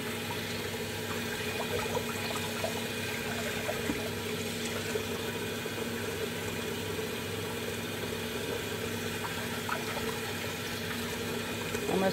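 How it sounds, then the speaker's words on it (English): Steady running water from a tap while the parts of a Bodum pour-over coffee maker are washed in a van, a continuous even rush with a faint low hum underneath. "I'm washing the parts to my coffee maker, well, to my Bodum. My pour over coffee maker."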